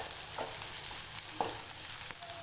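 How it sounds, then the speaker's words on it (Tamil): Onions and green chillies sautéing in oil in a pan, a continuous close hiss of frying with a few faint spatula scrapes over it, no talking. "அதே இது கூட சேர்த்து வதக்கி விட்டுக்கோங்க"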